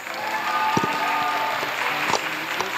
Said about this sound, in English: Give a warm of applause for the College of Art and Sciences.